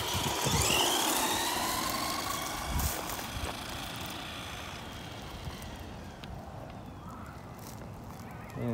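A Redcat Blackout XTE RC truck with a brushed motor whines as it gets going outdoors, its high motor pitch rising and falling with a few sharp bumps, loudest at the start and easing off slightly afterward.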